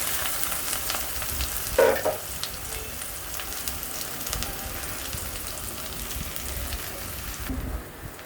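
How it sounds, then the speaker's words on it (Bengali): Chopped onions fry in hot mustard oil in a wok, making a dense, continuous close-up sizzle with a brief louder burst early on and a steady hiss to the end. "পেঁয়াজগুলো লাল লাল করে ভেজে নিব"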